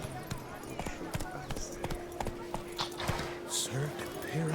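A horse gallops in a video game, its rhythmic hoofbeats clip-clopping steadily close by, with a voice speaking over the hooves.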